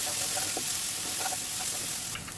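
Taro curry with salt, sugar, dried chilies and cumin powder frying in a pan, a steady close sizzle with light scraping stirs of a spoon mixed in.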